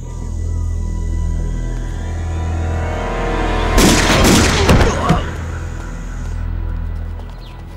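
Gunfire in a wartime battle scene from a Chinese spy drama: a dense burst of rapid shots lasting about a second and a half mid-clip, loud against a steady low background hum that continues before and after.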